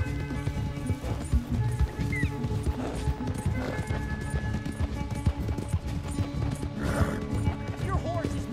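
Horse hooves clip-clop at a steady gallop in Red Dead Redemption 2, with an occasional whinny, loud and close over a game soundscape, while people talk excitedly throughout.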